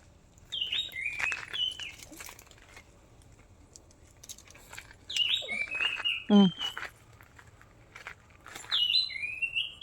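Sparrows chirp in short bursts of high tweets, some close and bright, with quiet pauses between and occasional light rustling, in rural Idukki, Kerala.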